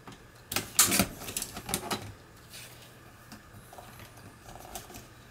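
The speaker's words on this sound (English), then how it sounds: "I'm just trimming these down" Trimming 4x6 paper cards, with several crisp cutting and slicing strokes bunched early, then softer scraping and handling of the paper, close by and with no talking.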